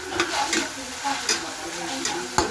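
Filipino adobo sizzles in a pan while a utensil stirs it, with scraping strokes recurring over a steady frying hiss at close range.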